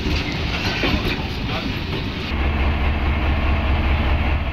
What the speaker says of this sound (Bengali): এরপরই বাংলাদেশের উদ্দেশ্যে যাত্রা শুরু করে পণ্যবাহী ট্রেনটি